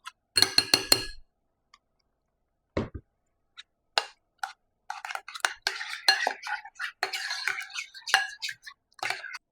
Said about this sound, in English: I'm going to clean out this jar